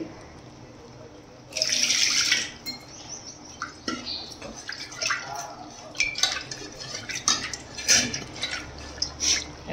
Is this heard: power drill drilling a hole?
no